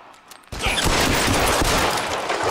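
Dense, loud gunfire erupts abruptly in the L.A. Noire VR game, a sustained rattling volley of shots that continues without pause after a brief quiet lead-in.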